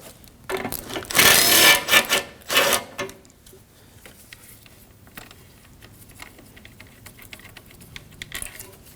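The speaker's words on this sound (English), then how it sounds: "We can remove the 10mm bolt holding our intercooler piping on the driver's side." A 10mm bolt comes off the driver's side intercooler piping on a 2015-2024 Ford Edge 2.0L: a loud burst of rapid mechanical whirring and ratcheting lasts about two seconds, followed by quieter scattered clicks and tool handling.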